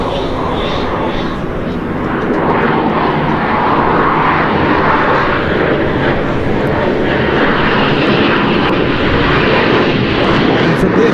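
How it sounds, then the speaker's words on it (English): A delta canard fighter jet roars through an air show display in full afterburner for a slow-speed loop, a loud, continuous broadband rumble that swells slightly after the first couple of seconds and holds steady throughout. "This into full afterburner for a slow speed loop."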